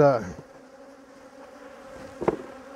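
Honeybees buzz at an open hive during a late-season inspection before wintering, with a steady low hum and a few louder passes near the microphone.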